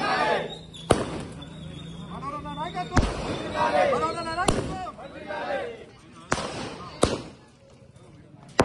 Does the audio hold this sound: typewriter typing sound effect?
no